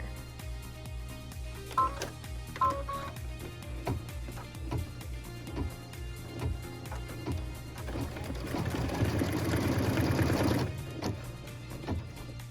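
A sewing machine stitches binding onto a quilted wall hanging, its needle tapping in a fast, steady rhythm with short pauses. A denser, louder run of stitching comes near the end. The sound is quiet and close, with no talking.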